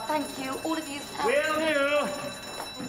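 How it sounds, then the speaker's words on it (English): A building fire alarm sounds in a warbling, rising-and-falling electronic tone, ringing loudly through the middle while several people talk nearby. "Oh. That's the fire alarm."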